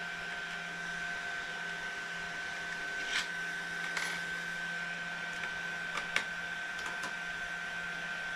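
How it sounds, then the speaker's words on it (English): A 3D printer running in a home garage late at night gives a steady mechanical whine with a constant tone, broken by a few faint clicks and ticks, with no voices present. "we're gonna go ahead and shut the printer down here in a second"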